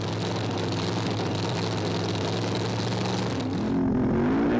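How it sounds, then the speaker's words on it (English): Drag race cars at an ANDRA drag racing event in Perth roar loudly and continuously, a dense engine drone that shifts pitch near the end as the cars pull away. "These things are brutal, organic race cars."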